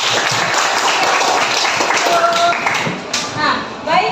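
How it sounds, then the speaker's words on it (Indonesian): A classroom group claps in a brief burst of applause, with children's and adults' voices talking over the clapping. "Kita berikan aplaus dulu untuk Rian."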